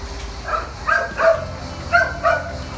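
A puppy at the Marseille animal shelter gives a few short yips and whimpering barks in quick bursts, fairly close and moderately loud, with faint background noise.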